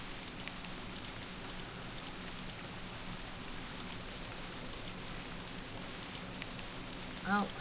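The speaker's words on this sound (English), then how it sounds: "Oh, it's raining." Steady rain falls throughout in the dark Stone Age area of the video game Myst, a continuous even patter with a brief louder sound near the end.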